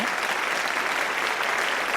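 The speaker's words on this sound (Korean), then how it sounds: "폭죽 터뜨리시면, 네, 박수 소리가 나와요" A burst of dense, steady applause sound effect in a virtual classroom, like a crowd clapping all at once, loud and continuous for a couple of seconds.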